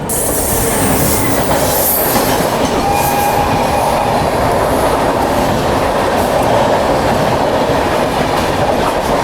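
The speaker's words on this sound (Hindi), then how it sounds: "जैसे मैंने कहा था, अच्छी खासी स्पीड से क्रॉसिंग हो रहा है हमारा।" An Indian Railways express train races past at speed, a loud, continuous rumble of wheels and rail clatter with faint squealing, close and steady throughout with no voices.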